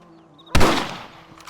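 One loud rifle shot fires in the Red Dead Redemption video game, a close, sharp crack whose echoing tail fades over about a second, with no voices over it.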